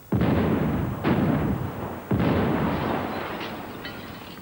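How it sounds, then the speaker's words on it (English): Special-effects explosions staged at a remote gas station for the action film Universal Soldier: three loud, heavy booming blasts about a second apart, each a sharp onset with a long rumbling decay, no voices. "The explosion will be on the screen for just 10 seconds."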